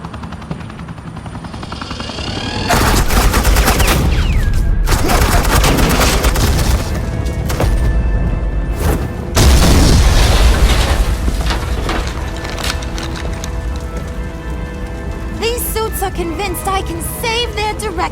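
Loud, sustained gunfire and booming explosions from a Batman video game, dense bursts of shots and blasts running almost without a break with a brief lull midway, an aircraft-like rumble underneath.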